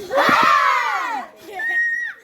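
A class of students in a volleyball lesson shouts together after a breathing exercise: one long, loud group yell, a brief pause, then a second, shorter cry.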